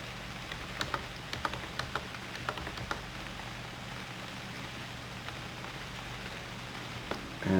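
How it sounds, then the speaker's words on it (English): Steady rain falls in the game UnReal World during a hunt, a soft even hiss with scattered faint drop ticks across the whole stretch and no talk. "Hunting in the rain, my favorite."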